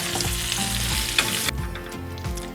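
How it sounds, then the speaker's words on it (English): Butter melting and sizzling in a pan over medium heat for brown butter, a steady close crackle and hiss that thins out as it goes on, with a soft stirring scrape and no talk. "So you wanna add your butter to the pan, and we're gonna melt it over medium heat."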